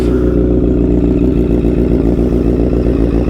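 A 2009 Honda CBR1000RR fitted with a Two Brothers exhaust runs right after a cold start, a loud, close, steady idle with a dense low rumble and no voices.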